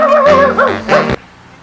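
A dog yelps and barks in a short burst of high, whining, tonal calls close by, three or four yips rising and falling before cutting off abruptly into quiet.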